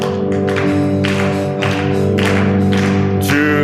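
A church congregation sings a hymn while clapping along, steady rhythmic hand claps beneath sustained voices and accompanying instruments, full and close throughout.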